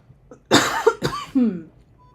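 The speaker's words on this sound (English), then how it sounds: "1 second, I got a cough." A single close, loud cough with a short follow-up burst, then quiet.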